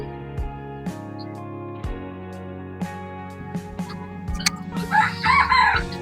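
Chickens at a farm cluck and a rooster crows, with repeated calls over a steady low hum, followed by a burst of noisier fowl chatter near the end.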